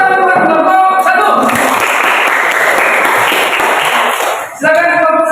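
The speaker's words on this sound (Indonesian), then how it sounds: "Tepuk tangan buat kelompok 1." Audience applause for a group in a classroom session, a dense burst of clapping breaking in after a voice and running for several seconds before fading out as a speaker resumes.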